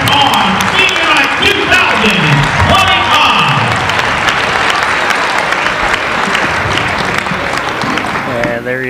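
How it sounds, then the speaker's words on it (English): Applause and cheering from a crowd at a high school Senior Night game, loud, sustained clapping with whoops, while an announcer's voice speaks over the crowd. "let's give another round of applause for all these seniors and their parents on Senior Night"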